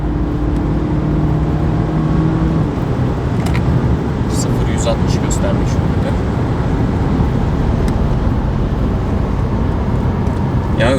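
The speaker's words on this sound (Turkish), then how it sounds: "öyle bir ivmeyle hızlanıyor ki araç çok hızlı devir çeviriyor" BMW F30 316i with stage 2 tuning launching hard and accelerating, engine roar and road rumble heard from inside the cabin, loud and continuous throughout, with people talking over it.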